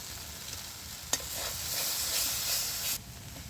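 Ground cumin, mustard and coriander paste frying in a pan after ginger and garlic, a soft close sizzle that swells after a sharp clink of the spoon and cuts off suddenly.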